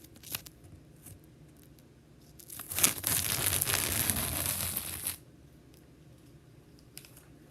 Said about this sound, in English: Let's take off the tape.